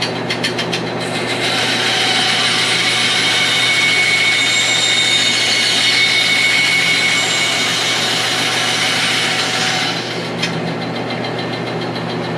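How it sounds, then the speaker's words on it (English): A bandsaw trims excess wood in a steady, loud, continuous whine with a rushing broadband hiss, running about nine seconds under a constant motor hum before the cut ends and the machine keeps idling. "Now I'm going to trim the excess off here on this bandsaw."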